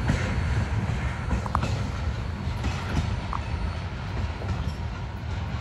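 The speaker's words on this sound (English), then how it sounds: "Rather small train." Small freight train with tanker cars rolling past at Butler, Pennsylvania, a steady low rumble of wheels with light rhythmic clicking and faint metallic squeals, fairly close and without talk.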